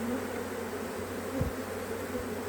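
A steady, dense hum of honey bees on a brood frame of an open hive, close and continuous, with one faint low thump near the middle.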